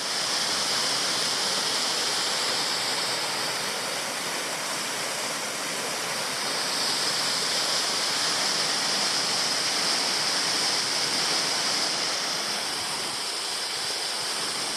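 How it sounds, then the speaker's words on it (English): Creekton Falls, a waterfall about 30 metres high in Tasmanian rainforest, roars in a steady, loud, unbroken rush of falling water with no voices. "So this is Creekton Falls. A really, really nice waterfall, about 30 metres high"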